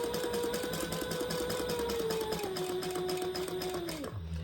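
Sewing machine stitching variegated purple thread along the side of a bag, a close, steady whirring motor with rapid needle clatter that slows and drops in pitch before stopping abruptly.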